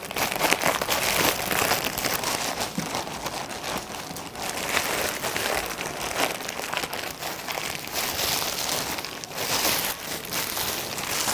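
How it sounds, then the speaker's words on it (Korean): Dough of butter and flour for a giant French pie is squeezed into a ball inside a plastic bag, giving a steady, close crinkling and crumpling of plastic that runs without pause. "봉투 안에서 한 덩이로 뭉쳐주세요."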